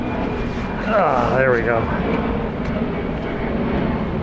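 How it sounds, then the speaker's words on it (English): A jet aircraft departs Reagan National Airport along the Potomac, a steady broad engine roar that holds for the whole stretch while a person briefly speaks over it. "Jets coming out of Reagan."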